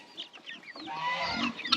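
Several chickens cluck and chirp close by, a busy overlapping flurry of short calls and peeps.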